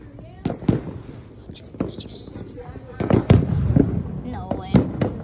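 Fireworks burst outdoors in a series of sharp, close bangs and crackles at irregular intervals, with voices talking between the blasts.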